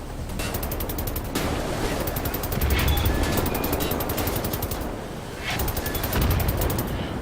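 Rapid automatic gunfire rattles in long, loud bursts at a tank in the shooter Wolfenstein: The New Order, dense clattering rounds pausing briefly between volleys over a rumbling background.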